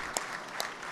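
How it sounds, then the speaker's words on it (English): A small press-conference audience claps briefly and faintly, a light scattered patter with a couple of sharper individual claps. "you guys should be clapping about that"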